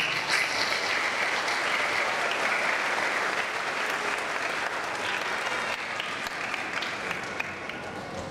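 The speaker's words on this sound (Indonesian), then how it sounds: "Maka tepuk tangan untuk kita semua." Sustained applause from a church congregation at a Sunday Mass, steady and dense clapping throughout, fairly loud and continuous without letup.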